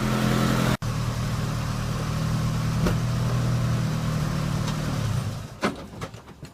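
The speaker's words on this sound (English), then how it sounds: "I'm going to disconnect my battery cables and dump this thing off the trailer." A 1993 Nissan pickup truck rolls off a trailer, its mid-pitched engine running steadily and close by, then fading at the end as a few knocks and clanks sound.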